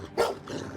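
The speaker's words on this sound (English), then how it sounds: "especially when we hear barking the dogs" A single short dog bark sounds once, fairly faint and slightly distant, followed by a low murmur of background noise.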